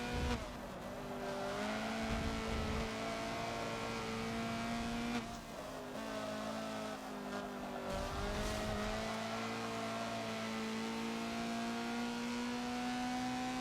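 Honda CRX race car lapping Mugello in Forza held in second gear, a steady high engine drone with small pitch shifts and brief lifts, continuous and fairly quiet, no talking.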